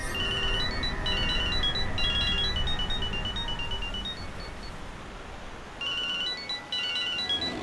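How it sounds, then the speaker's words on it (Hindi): A phone ringtone plays a repeating beeping melody in bursts over low background noise, pausing briefly before starting again. "अरे साहब फोन बज रहा है आपका"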